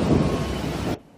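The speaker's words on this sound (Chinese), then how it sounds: "狂风骤雨，大雨来得又快又急" A violent wind-driven downpour lashes a flooded city street on Taiyuan Road in Taichung, a dense, loud roar of rain and gusts lasting about a second before cutting off abruptly to near silence.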